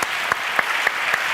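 A live studio audience at a recorded interview breaks into brief applause, a loud, dense burst of many hands clapping at once with a few sharper claps standing out.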